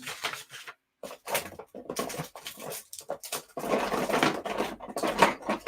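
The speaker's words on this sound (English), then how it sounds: "the noise you hear is me shuffling around looking for my" Intermittent rustling and clattering of art supplies being moved and rummaged through, in short bursts with brief pauses, close by.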